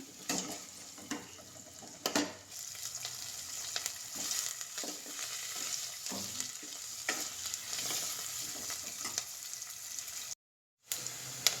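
Onion, green chili and curry leaves fry in a pan with a close, crackling sizzle and repeated scraping stirs of a spatula, broken by a brief silent gap near the end; no one speaks.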